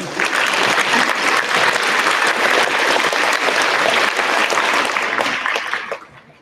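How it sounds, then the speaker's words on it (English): Steady applause from a crowd at a school Veterans Day assembly, many hands clapping at once for several seconds before quickly fading out near the end. "You guys can clap."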